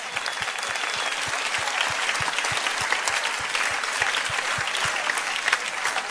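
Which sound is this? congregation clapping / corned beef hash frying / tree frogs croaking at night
congregation clapping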